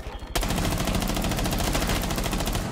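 Rapid automatic gunfire in Rainbow Six Siege erupts after a brief quiet moment, a loud, dense stream of shots continuing without pause.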